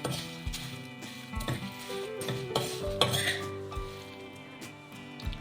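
Curry leaves and coriander seeds dry-roasting in a pan while being stirred, with a steady sizzle, repeated clinks and scrapes of a metal spoon against the pan, and some ringing tones close by.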